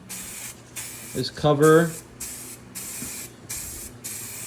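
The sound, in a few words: spray painting a car wheel with spray paint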